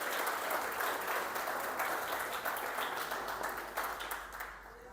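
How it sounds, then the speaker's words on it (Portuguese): A church congregation claps steadily in a dense wash of applause that holds for several seconds, then gradually fades near the end. "Você pode aplaudir o Senhor por isso?"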